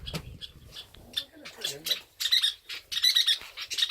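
An angry mother bird gives repeated harsh, close squawks in quick bursts while a baby bird is being rescued, with a person speaking briefly early on.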